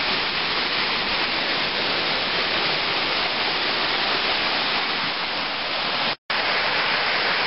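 A rocky creek flows on a rainy day, giving a loud, constant hiss of rushing water that is broken only once by a brief dropout near the end, with no talking.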